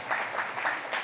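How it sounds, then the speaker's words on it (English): Applause from an audience at a First Nations energy and natural resource leadership summit in Saskatoon, a short steady wash of clapping with slight swells, no voices over it. "How about a big round of applause"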